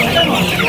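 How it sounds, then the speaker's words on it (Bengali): Kadaknath rooster, an all-black breed, clucking at a busy chicken market in Rajarhat, Kolkata; a brief, close, fairly loud burst of fowl calls over a dense market din. "করকনাথ মুরগি দেখুন, করকনাথ মোরগ।"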